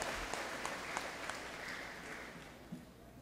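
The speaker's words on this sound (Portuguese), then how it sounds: "Uma salva de palmas." A congregation in a Catholic church during a patron saint festival novena in Coaraci gives a round of applause, faint and distant, fading toward the end.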